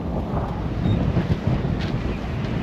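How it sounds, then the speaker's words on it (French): Strong wind buffeting the microphone aboard a catamaran sailing head-on into the wind as a rain squall passes nearby, a steady broadband roar with gusty swells, no voices. "Vous entendez le vent je pense."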